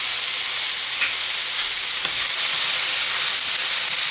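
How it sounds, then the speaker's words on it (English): Vegetables sauté in salted butter with dry seasoning in a hot pan, giving a steady, dense sizzle and hiss that runs unbroken and fairly loud, with a couple of faint stirring clicks. "We're just trying to caramelize up these veggies for a few minutes"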